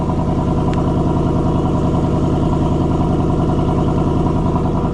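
A 2024 Ford Mustang GT engine with stock exhaust idles close by with a steady, even rumble, low, quiet and continuous throughout.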